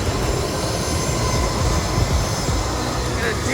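Loud, steady roar of an Air Century private-size jet coming in low over Maho Beach, St. Maarten, a continuous broadband rumble holding close and strong from start to finish.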